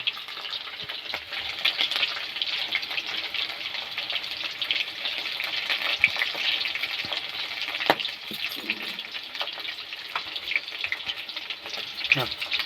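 Chicken pakoras fry in hot oil in a home kitchen, a steady bright sizzle with crackling pops running throughout, close and fairly loud, with occasional clinks and faint background voices.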